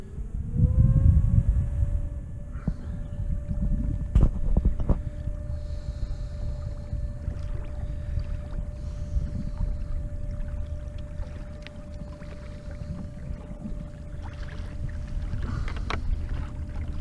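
A Newport Vessels NK-180S electric kayak motor runs at full throttle on calm water with a slight side wind: a steady whine spools up quickly and holds, over continuous water rush and wind.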